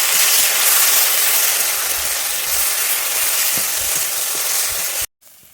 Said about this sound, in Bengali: আমার পোস্ত আদা কাঁচা লঙ্কাটা আমি ভালো করে ভেজে নিয়েছি